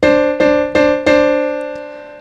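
A D dominant seventh chord strikes and rings, then is struck again three times in even succession before slowly fading; no voices.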